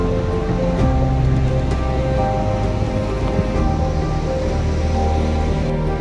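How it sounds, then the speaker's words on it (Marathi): Big waves rolling onto Ganpatipule beach on a rough, churning sea, a loud, continuous broadband roar of surf and spray with no pauses across the stretch. "मोठ्या मोठ्या लाटा येत आहेत."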